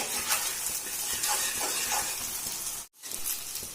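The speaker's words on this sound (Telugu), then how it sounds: "ఎగ్ కూడా బాగా ఫ్రై అవ్వాలండి" Egg frying on high flame in a pan for hotel-style chicken fried rice, a steady close hiss and sizzle with a brief cut near the end.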